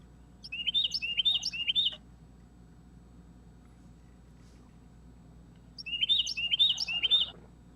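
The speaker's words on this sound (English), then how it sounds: "Does everybody hear that bird?" A small bird sings two bursts of rapid, high chirping phrases, each lasting over a second, with a quiet pause between them, clear against a faint low background hum.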